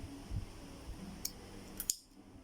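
A few quick, crisp snips of scissors cutting cord for a Chinese knot button, close and sharp against a quiet room.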